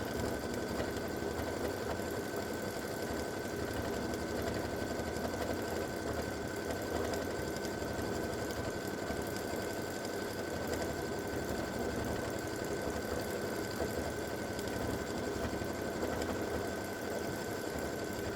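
A quilting machine stitches an edge-to-edge double loop design, a steady, fast mechanical hum and rattle running unbroken at an even level, with no talk.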